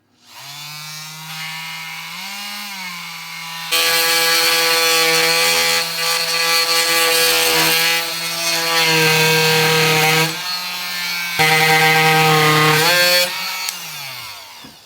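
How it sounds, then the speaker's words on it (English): An oscillating multi-tool cutting through epoxy on a boat during a refit, a loud, high whining buzz that starts alone, then rises and falls in pitch as it bites into the material, stopping briefly and resuming before winding down. "getting in there with the oscillating multi-tool, helping to mess up the edges a bit less"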